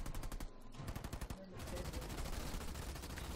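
Dense rapid machine-gun fire from ground troops in Halo Wars 2, a continuous rattling burst that briefly thins then resumes steadily, loud and close with a low rumbling background.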